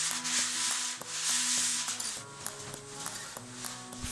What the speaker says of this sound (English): Allow to dry and then sand and wipe away any dust.